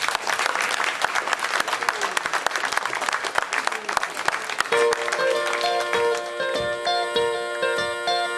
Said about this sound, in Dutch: Dames en heren, gerrig applaus voor The Sky on Fire van de Hanson Poets.